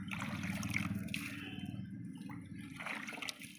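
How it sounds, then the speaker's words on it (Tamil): Water being poured onto a newly planted sapling, a soft, faint splashing and trickling that runs steadily before tapering off, with no voices over it. "நம்ம கேமராமேன் தண்ணி ஊற்றிக்கிட்டு இருக்காரு."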